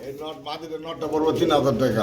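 A Budapest pigeon cooing in a low throaty burble at close range, mixed with people talking nearby.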